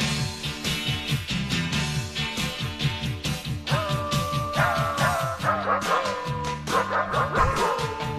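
Dogs bark and yip in a pitched, rhythmic pattern set to the melody of a song over a musical backing, the barks arriving in regular beats across the whole stretch.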